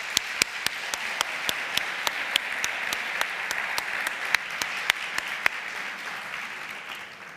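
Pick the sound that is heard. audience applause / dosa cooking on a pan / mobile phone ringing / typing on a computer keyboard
audience applause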